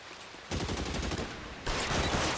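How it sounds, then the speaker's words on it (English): Several guns fire in rapid bursts in L.A. Noire, dense crackling volleys that start abruptly and surge again near the end, with no talking. "Who are you guys shooting at, huh?"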